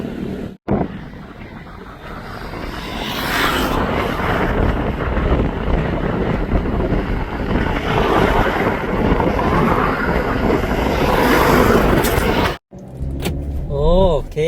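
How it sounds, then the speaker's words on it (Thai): Strong wind gusts on the Mekong riverbank, a loud, unbroken roar buffeting the microphone for most of the stretch before it briefly cuts out near the end. "ลมพัดแรงขนาดเลย"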